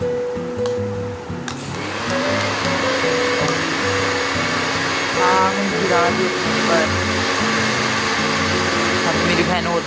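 An electric blender whirs steadily as ice cream is mixed into a homemade coffee drink, starting up after a brief pause and running continuously while a person talks over it.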